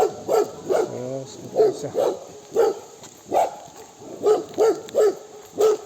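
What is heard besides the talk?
dogs barking at a trout farm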